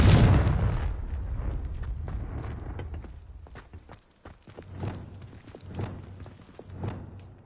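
A Confringo fire-blast spell goes off in Hogwarts Legacy with a loud, close boom that opens the moment and fades into a long rumbling tail, followed by a run of softer thuds and crackles.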